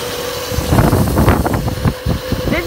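A moped rides down a big hill, its engine a steady, loud buzz mixed with wind rush, fairly close throughout.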